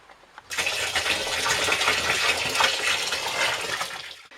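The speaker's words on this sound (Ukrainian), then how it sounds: "я додаю очищену воду" Purified water pours steadily into a container of jam being set up to ferment for homemade moonshine, a continuous close splashing gush lasting about four seconds before it stops.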